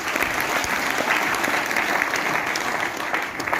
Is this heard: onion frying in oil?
no